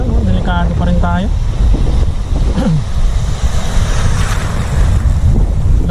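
Big waves roll onto a shoreline at low tide, a continuous loud wash of surf and wind buffeting the microphone, with someone speaking over it.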